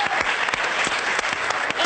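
Audience applause from a crowd at a young scientist event, a dense steady patter of many hands clapping at close range, filling the whole moment.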